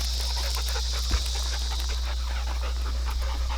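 Two dogs, a small one and a larger one, play together, with quick breathy panting and faint whimpers close by over a constant low hum, and no talking.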